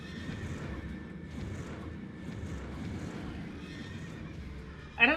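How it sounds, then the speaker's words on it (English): A horse neighs in Final Fantasy XIV: Endwalker, heard over a steady wind-like ambient bed, with a brief sharper whinny burst near the end. "I don't know if that horse exists as a mount, but it's so cool"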